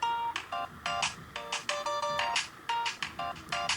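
Vacation ringtone on an HTC Trophy phone plays a bright, tonal pattern of repeating chimes in a steady looping rhythm, clear and close with no voices.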